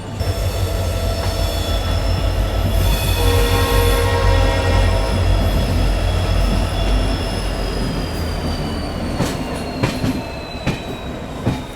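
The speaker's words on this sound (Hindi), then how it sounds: "हम लोगों का अराइवल हो रहा है कानपुर सेंट्रल रेलवे स्टेशन पर" A long-distance passenger train rolls into Kanpur Central railway station, loud and close, with a steady rumble, a thin high wheel squeal and rhythmic clatter of carriages over the joints.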